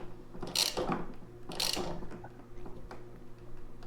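A ratchet wrench tightens a bolt on a Honda HRR series lawnmower during an oil change and tune-up. Two short, close ratcheting bursts click out about a second apart, then quieter clicks follow in a faint, quiet space.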